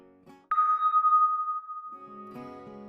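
A bright electronic ping triggered by a button in a graphical user interface program, one sharp tone that rings and fades over about a second, alone and clear.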